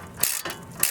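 A ratchet with an 18mm socket works the front brake bolts on a Volvo XC, giving three quick bursts of close, crisp pawl clicking in a steady back-and-forth rhythm.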